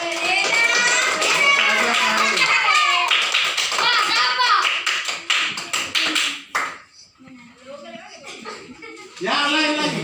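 Children in a classroom clap their hands in a quick burst of rapid claps mixed with their excited voices, then it falls quiet before more chatter returns.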